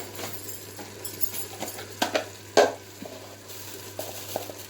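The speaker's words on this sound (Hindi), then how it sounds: "देखिए 10 मिनट हो गए हमें कलेजी को भूनते हुए।" Mutton liver frying in a pan, with a soft continuous sizzle broken by a few louder scraping stirs, nearby and moderately quiet.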